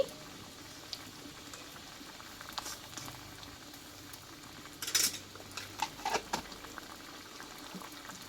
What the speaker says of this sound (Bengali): ডালটা কিন্তু ফুটতে লেগেছে